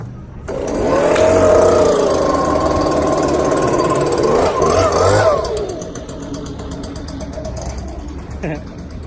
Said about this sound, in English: this is why we have that little blower